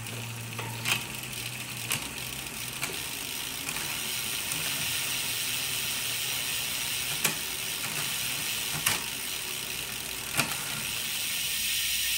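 A bicycle drivetrain in a work stand, a SRAM AXS 12-speed 10-33 cassette with a Shimano 52 crank and Shimano 12-speed Di2, clicks up through the gears over a constant whirring freewheel and chain hum, each shift a distinct tick.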